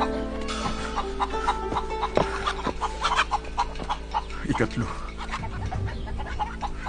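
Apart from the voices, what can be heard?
chickens clucking in a chicken coop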